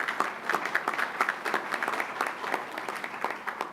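Audience applause at a university honor society induction ceremony, a steady patter of many hands clapping in a hall, moderately loud and continuous throughout.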